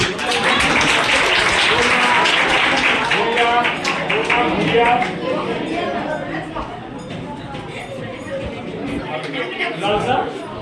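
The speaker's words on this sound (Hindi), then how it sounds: "ताली बजाते रहो।" An audience claps steadily at a school function, dense and loud applause that gradually thins, with voices and chatter mixed in throughout.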